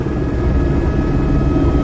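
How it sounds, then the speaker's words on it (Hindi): A helicopter at Patna airport, about to lift off for Tarapur, Munger, heard from inside the cabin as a loud, steady rotor and turbine roar filling the whole short stretch without pause. "हम लोग अभी हैं हेलीकॉप्टर में बैठे हैं और हेलीकॉप्टर उड़ने वाली है माधोजी तारापुर मुंगेर के लिए।"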